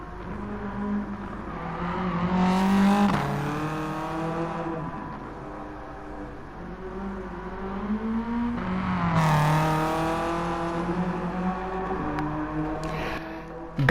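A front-wheel-drive car with over 500 horsepower laps the Nürburgring in Gran Turismo, its engine droning loudly and rising in pitch through two long acceleration runs, with shifts between them and a brief squeal at the end.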